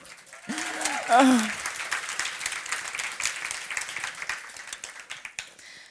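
An audience at the Nine Muses Festival 2022 applauds Deborah Ababio in a sustained, even patter of many hands, with a voice speaking over the opening moment before the clapping carries on alone and gradually thins.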